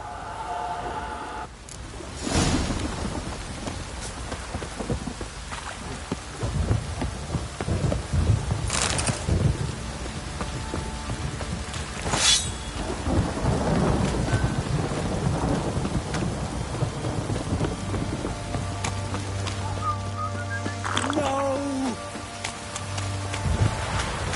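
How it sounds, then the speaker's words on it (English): Heavy downpour with thunder: a constant roar of rain on surfaces broken by several sharp, loud thunder cracks and rumbles at irregular intervals, with a low steady hum entering toward the end. "This downpour's a bastard, it is."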